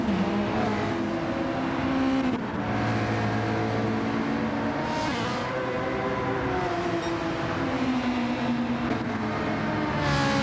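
Race cars in a racing video game league race come through the final chicane, with steady, loud engine drones rising and falling in pitch as they pass, with no talk.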